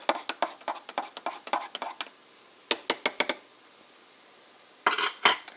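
A spoon stirs carbonated coffee in a glass, ringing out in a quick run of sharp clinks, then a short burst, a pause, and a final cluster, close and clear with no talking.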